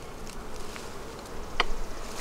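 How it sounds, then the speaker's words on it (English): Honey bees buzzing steadily in a hive packed with bees, a close, dense hum throughout with a brief sharper buzz as one passes near. "This hive is packed with bees."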